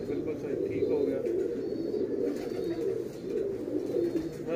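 A domestic pigeon kept by a pigeon fancier at a friend's house coos in a low, steady, continuous murmur, close by, with voices talking over it.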